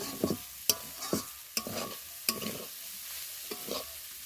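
Flattened rice pulao is stirred and fried in a pan. Five or six sharp scrapes of a spatula strike at a steady rhythm over a faint background sizzle, close and clear.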